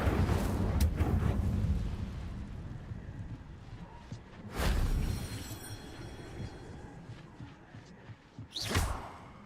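Fire spell cast in Hogwarts Legacy, heard as several sudden whooshing fiery bursts: one loud blast at the start, another around the middle and a sharp one near the end, separated by quieter game ambience.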